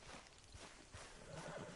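A horse in the video game Red Dead Redemption 2 gives a quiet whinny and its hooves clop softly in a short, faint burst with no talking.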